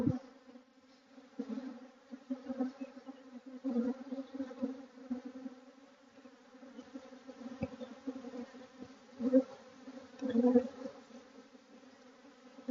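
Honeybees buzzing in flight at a hive during queen rearing, a steady humming drone that swells and fades as insects pass close, with no talking.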